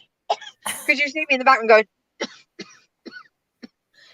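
A person coughs and clears their throat in a short burst on a TV comedy show, followed by sparse speech fragments.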